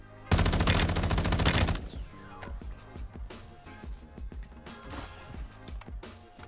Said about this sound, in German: Wirklich auch alles daneben geschossen.